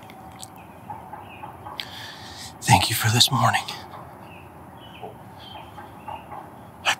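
Wild turkey toms cluck on a farm during a morning bowhunt. Faint clucks come and go in the background, and someone speaks quietly over them.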